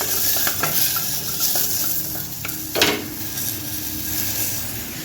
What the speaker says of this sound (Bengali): এইবার এগুলোকে একটু হলুদ দিয়ে একটু ভাজা ভাজা মতো করবো